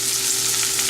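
Chopped onions sautéing in hot oil in a pan for a fried fish curry, a steady close sizzle and hiss with a faint low hum beneath and no voices.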